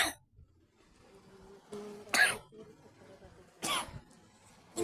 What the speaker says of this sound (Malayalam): നല്ല ചുമക്കുന്നു